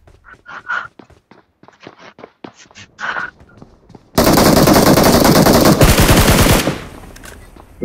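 Automatic gunfire from the video game PUBG Mobile: quiet game footsteps and small clicks first, then a sudden loud sustained burst of rapid shots lasting a few seconds, followed by a short tail.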